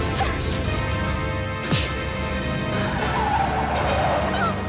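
A car brakes hard to a stop on a road, tyres briefly squealing over a loud, steady engine and road rumble, with no speech.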